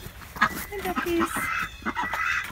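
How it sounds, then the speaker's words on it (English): Farmyard ducks quacking and honking in short bursts close by, mixed with a woman's brief greeting. "Hi, duckies."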